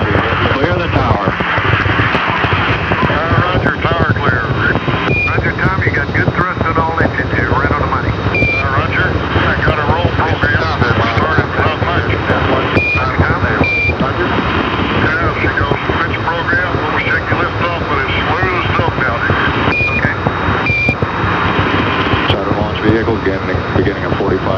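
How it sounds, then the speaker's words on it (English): Saturn IB rocket engines roar at liftoff of the 1975 Apollo-Soyuz launch, a loud, continuous broadband rumble that fills the whole span, with radio voices talking over it. "We have a liftoff. All engines building up thrust."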